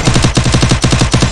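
Rapid automatic gunfire from a video game shootout, a steady stream of loud, evenly spaced shots at close range filling the whole moment with no talk over it.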